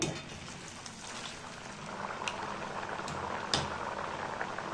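Hand-made kai murukku fries in hot oil, giving a soft, continuous bubbling sizzle with scattered crackles and a few sharp pops.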